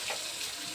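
Onion, garlic, chilli, cumin and bay leaf sizzle in hot oil in a kadai, a close, loud, continuous frying hiss with no voices over it.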